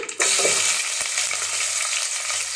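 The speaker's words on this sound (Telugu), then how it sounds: "చెక్క మొగ్గ యాలక్కాయలు సాజీరా లవంగాలు స్టార్ ఫ్లవరు అన్నీ వేసేస్తున్నాను చూడండి బిర్యానీ ఆకులు ఆనియన్స్ వేస్తున్నా" Whole spices such as cinnamon, cloves, cardamom and star anise go into hot oil with bay leaves and onions for egg and chicken biryani, producing a steady, close, loud sizzle and frying hiss with no talking.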